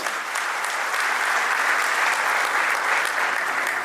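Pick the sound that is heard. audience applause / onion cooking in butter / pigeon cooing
audience applause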